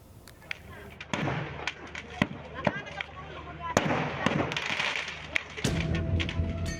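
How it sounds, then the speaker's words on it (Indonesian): Fireworks and firecrackers from burning houses and a wholesale shop pop and bang in irregular bursts, sharp cracks over a steady roar of fire, with voices talking in the background. "Ledakan kembang api hingga petasan dari semua rumah sekaligus toko grosir yang terbakar"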